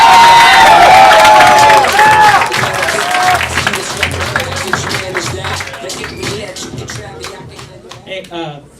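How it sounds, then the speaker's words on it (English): Comedy club audience clapping and cheering for the next comic, loud and close at first, with shouts and whoops over dense claps before it tapers off. "keep all the applause coming for your next comic"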